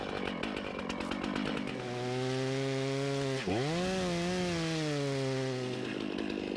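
A chainsaw cutting trees roars loudly and continuously nearby, its engine whine holding steady, dipping sharply once mid-cut, then revving back up to a high drone.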